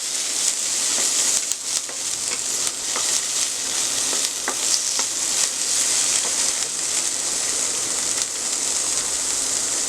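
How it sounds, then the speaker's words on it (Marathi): Paneer and peas stir-fried over a full flame for paneer fried rice: loud continuous close sizzling with frequent scraping and tossing strokes of a spatula throughout, no talking. "फुल गॅस असल्याने आपण हे सारखं परतवत राहणार आहोत।"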